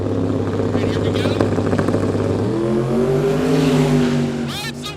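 A radial drag racing car launches down the strip, its loud engine note holding a steady drone, then rising in pitch as it pulls away, with crowd and commentary voices mixed in around it.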